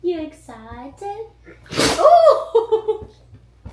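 A woman coos to a dog, then a sharp sneeze bursts out loudly at close range, followed by more excited talk.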